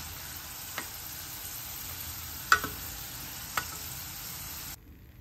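Ingredients for gongura pickle fry in a pan on a low flame with a steady, soft sizzle. A few sharp ticks of stirring stand out before the sound cuts off near the end.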